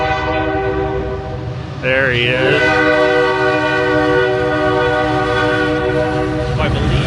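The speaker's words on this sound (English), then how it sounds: "And here comes a train." A train horn blares loudly and continuously close by as the train rumbles past in Waco, Texas; a person speaks briefly over it.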